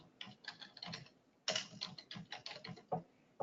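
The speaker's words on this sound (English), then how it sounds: "all I'm going to do is start typing my name" Someone typing their name on a computer keyboard, irregular clusters of light key clicks close by, pausing briefly before another quick burst of tapping, with no talking.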